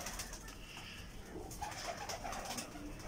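Pigeons kept for cross breeding coo softly among noisy outdoor background hum, with faint wing flutter possible; the calls are low and partly masked, no talk.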